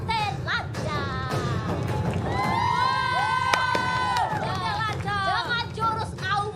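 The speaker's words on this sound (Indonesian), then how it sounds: "Tepuk tangan untuk Boten Lancang" A live audience at an Indonesian reaction show cheers and applauds for a contestant, loud crowd shouting and hubbub with excited voices rising throughout.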